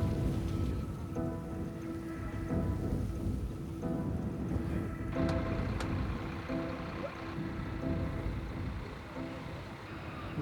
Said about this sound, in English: Rain brings a small relief to the remains of the ravaged town.